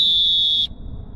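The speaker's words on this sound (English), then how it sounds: "For fouls, you're going to have different whistle tones depending on how severe the call is." A referee's whistle sounds one long, piercing, steady blast for a severe foul, loud and close, cutting off sharply after about two-thirds of a second into quiet room tone.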